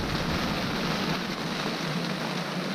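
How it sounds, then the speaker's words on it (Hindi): Heavy rain falls in strong wind at night in rural Meghalaya, a dense, steady hiss of downpour with gusty rushing, heard from indoors. "बारिश शुरू हो गया है और हवा भी बहुत जोर का चल रहा है, बहुत जोर का हवा चल रहा है और बाहर बहुत बारिश हो रहा है"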